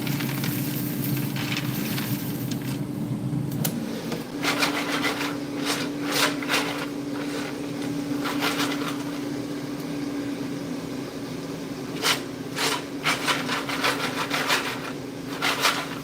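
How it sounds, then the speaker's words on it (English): Air-fried peanuts being rubbed to strip off their thin shells, giving a steady dry rustling and rasping close by, with brief crackly bursts of grating at intervals and no talk. "this is how it looks before I rub off the shells"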